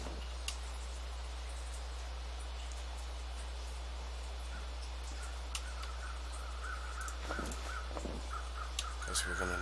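Crow cawing inside The Long Dark, a wintry survival video game, with a few sharp calls rising over a steady low ambient hum of the game world.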